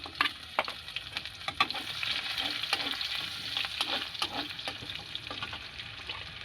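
Whole cumin and garlic fry in hot oil in a pan for a methi chorchori with beans, brinjal and prawns, a busy crackling sizzle with steady spattering pops close up.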